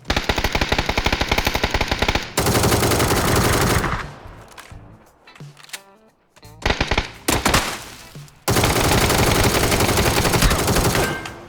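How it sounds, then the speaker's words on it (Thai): Automatic weapon fire in the battle-royale shooter PUBG, with loud, rapid, continuous bursts that break off briefly in the middle and then resume at full intensity. "ยิงข้างล่างอยู่ ยิงตัวล่างอยู่"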